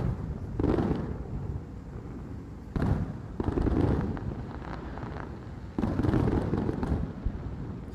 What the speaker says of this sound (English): It's such an awkward fireworks show